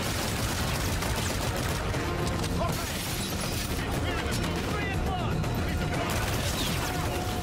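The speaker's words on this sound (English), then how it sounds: "You shooting rockets at me, boy?" Rockets and dense gunfire in a Call of Duty: Infinite Warfare battle on the Moon, a continuous loud barrage of shots and blasts with a player talking over it.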